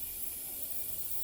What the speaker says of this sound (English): I'm just going to spray it in the back of there.